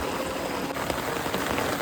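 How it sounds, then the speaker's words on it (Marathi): Steady monsoon rain patters on a rice paddy field during transplanting, a dense, even hiss of drops with no other sounds. "मस्त पाऊस पडतोय"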